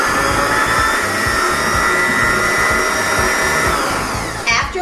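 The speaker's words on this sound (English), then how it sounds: "you turn your mixer on after the 15 minutes is over." An electric stand mixer runs at a loud, constant whir while beating bread dough back down, holding steady throughout with a small clatter near the end.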